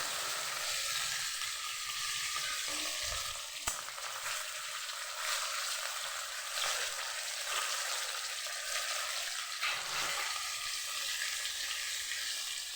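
Onion frying in hot oil for ghugni, a steady, even sizzle with a few soft stirring knocks throughout.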